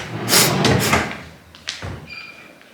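A drawer in a toddler's toy storage unit being pulled open, producing a few close wooden knocks and a sliding rumble followed by a sharp clack, with no talk during the sound.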